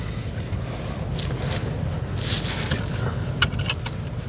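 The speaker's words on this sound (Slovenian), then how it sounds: "Čekaj, da se prevežem." A car seatbelt being fastened inside a vehicle, rustling strap movement followed by a few sharp metallic clicks of the buckle over a low steady cabin rumble.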